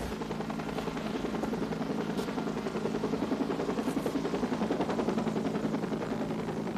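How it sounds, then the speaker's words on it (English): A police helicopter circles overhead during a search after an armed suspect fled over a brick wall, its loud rotor chop thudding steadily and close for the whole stretch with no voices. "As the helicopter searched over"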